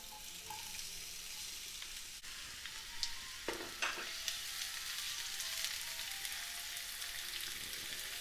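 Chopped onion sizzling in vegetable oil in a frying pan, a steady close hiss of frying that runs throughout with a few soft clinks of stirring midway.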